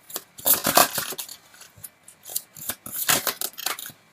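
Tarot cards handled and drawn from a deck during a reading, giving a run of quick, crisp papery snaps and shuffling flicks in two bursts, close and fairly loud, with no voices.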